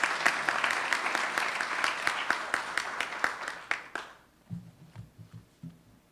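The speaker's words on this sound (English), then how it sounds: "Let's give him a round of applause." Audience clapping at a college building groundbreaking ceremony, steady applause with distinct individual claps that dies away after about four seconds, followed by a voice speaking.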